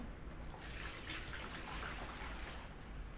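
Water splashes and trickles softly while a baby is being washed, a steady faint pour with no voices.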